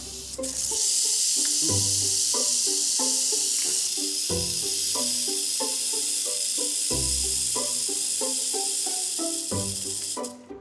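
A rattlesnake tangled in netting rattles its tail in a continuous loud, sizzling buzz, with music playing over it throughout.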